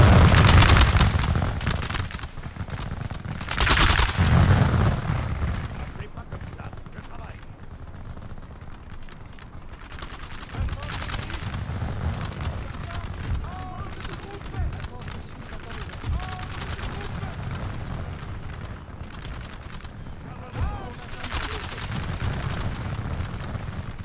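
A line of muskets fires a volley in a Napoleonic-era video game, with a loud crackling burst of shots early on. Scattered battle gunfire and booms continue underneath, and someone speaks.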